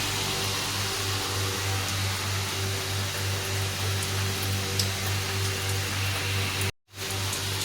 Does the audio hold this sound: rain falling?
yes